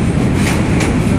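A train running at speed, heard from up on its roof, gives a loud, steady rumble of wheels and rushing air that fills the whole moment without a break.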